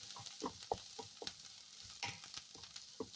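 Chopped onion sautéing with curry leaves for red cheera thoran, a quiet sizzle broken by repeated scraping stirs every fraction of a second, close and fairly soft, with no talking.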